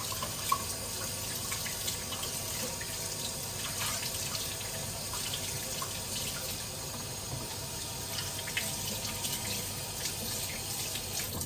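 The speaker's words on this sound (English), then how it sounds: "I'm just going to wash my hands" A kitchen tap runs steadily for several seconds while hands are washed, a continuous close rush of water into a sink with light splashing and no talk.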